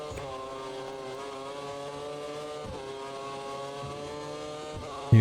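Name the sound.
V8 Formula 1 car engines racing, from a video game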